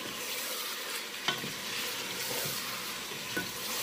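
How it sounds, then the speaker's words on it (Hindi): Whole spices (cumin, cinnamon, mace, black pepper and cloves) frying in oil in a karahi for chicken karahi, a steady close hiss and sizzle broken by a couple of brief clinks and scrapes of stirring. "1-2 मिनट हम खड़े मसालों को भून के इसमें अपने टमाटर डाल देंगे।"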